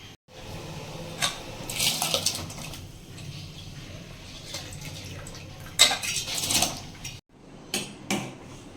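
Water handled in a cooking pot being set up to boil soaked rice with a little salt, with quiet sloshing, several brief metallic clinks and scrapes of the pot and utensils, fairly soft and close.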